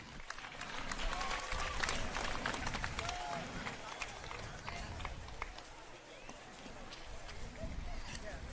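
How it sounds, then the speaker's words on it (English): Crowd at a USA BMX national race in New England applauding riders, continuous clapping and cheering with a few whistles, fairly distant, while an announcer talks over it. "big round of applause. Get loud for them."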